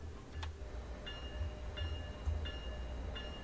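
A commuter train departing Boston South Station in Train Sim World 2, with a steady low rumble of rolling wheels and a cab bell ringing in regular evenly spaced dings, moderately loud and continuous.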